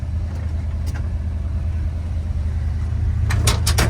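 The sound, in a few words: 1977 Ford F150 351 V8 truck driving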